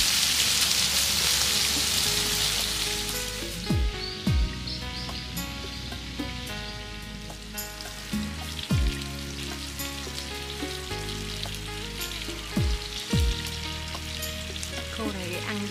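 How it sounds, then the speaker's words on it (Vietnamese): Pork pieces frying until golden in a pan in a rural Mekong Delta kitchen, a steady loud sizzle with a few sharp utensil clanks and scrapes throughout. "phần thịt thì mình sẽ chiên cho nó vàng"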